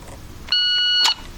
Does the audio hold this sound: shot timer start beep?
yes